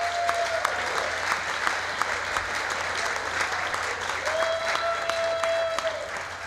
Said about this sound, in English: One more time, a round of applause for Artie Davis.